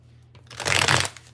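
A single quick riffle of tarot cards being shuffled, rising into a dense papery flutter then stopping, close and fairly loud with no speech.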